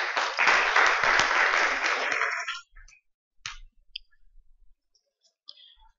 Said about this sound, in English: A big clap to him.